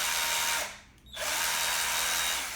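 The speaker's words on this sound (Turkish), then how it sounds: "Darbe modunu aldığımız zaman darbesi çok etkili gelmedi." A Snaiker cordless drill runs in hammer mode with a loud, steady whir that drops out briefly for a moment and then starts up again at full speed.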